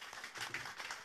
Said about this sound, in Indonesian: Sekali lagi tepuk tangan untuk Garut.